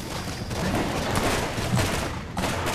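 Gunfire in the Borderlands video game, dense rattling shots that fill the whole stretch with almost no gap, loud and close, with no talk.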